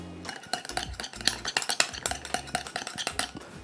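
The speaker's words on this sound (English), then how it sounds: "Then I'm gonna stir it little by little" A utensil stirs juice for an Italian salad dressing in a bowl, close and clattering with rapid irregular clinks and scrapes that continue without pause.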